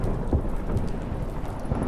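Storm aboard a boat in Witcher 3: steady heavy rain and wind hiss with low rumbling, a continuous dense wash of noise with no clear single thunderclap.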